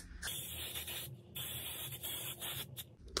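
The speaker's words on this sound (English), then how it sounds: "I got some glitter hairspray." Glitter hairspray misted from an aerosol can in several short hissing bursts separated by brief pauses, close and fairly loud with no talking.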